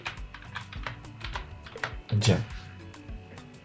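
Rapid clicking keystrokes on a computer keyboard while a search for a Canadian CV is typed into Google, a quick irregular patter up close, with a brief stretch of voice partway through.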